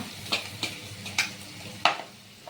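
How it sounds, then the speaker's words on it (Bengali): Ground cumin, coriander and grated ginger sautéing in a pan, with a low steady sizzle and four or five distinct scraping stirs of a spatula spaced about half a second apart, fairly close. "একটু মাঝে মাঝে নাড়িয়ে দিচ্ছি সাঁতলে নেওয়া হচ্ছে"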